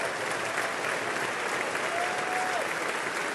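An audience in the US Congress applauds a speech with a dense, steady wall of clapping that holds at an even level throughout, with no voices over it.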